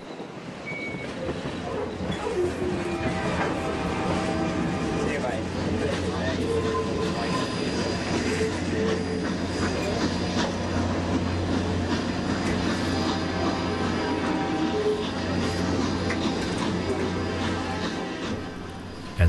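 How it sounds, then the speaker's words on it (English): Santa Fe 3751, a steam locomotive, runs past along a freeway corridor toward Los Angeles with a continuous heavy rumble and rolling clatter, loud and steady throughout. "a steam engine running down the middle of the freeway"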